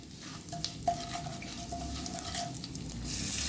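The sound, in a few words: mustard seeds and dried fenugreek leaves roasting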